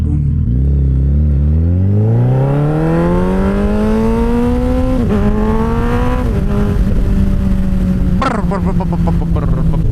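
A Suzuki Hayabusa motorcycle with a new aftermarket exhaust revs loud and close, its engine note climbing steadily in pitch, easing briefly, then holding a strong throttle with a short crackle near the end.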